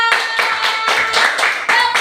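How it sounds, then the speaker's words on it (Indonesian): Children in a sixth-grade primary school classroom clap their hands together in a lively, fairly loud burst of rhythmic group clapping, with repeated pulses of claps close by. "Oke anak-anak, tepuk tangan dulu untuk kita semua."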